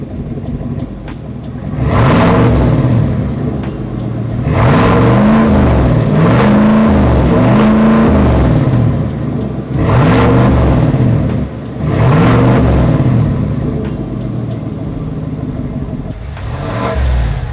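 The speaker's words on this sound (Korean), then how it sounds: "참, 배기음도 한번 들려드려 볼게요." A tuned GMC Sierra pickup's aftermarket exhaust is revved close to a microphone, with several loud surging blips rising and falling between steady idle.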